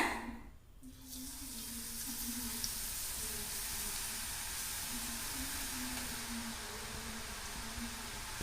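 Ragi ribbon pakoda dough pressed into hot oil to fry: after a brief quieter moment a loud, continuous sizzling hiss takes over and holds steady throughout, with a faint bubbling undertone.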